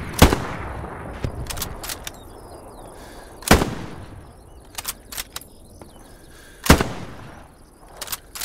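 Sharp, loud sniper-rifle gunshots in the video game Hell Let Loose crack out in scattered bursts over a low game background hum, some single shots and some quick pairs.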